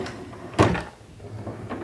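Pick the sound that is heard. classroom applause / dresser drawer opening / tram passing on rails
dresser drawer opening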